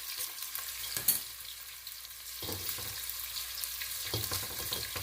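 Onions and whole spices fry in a pot with a steady, close sizzle, broken by a few stirring scrapes.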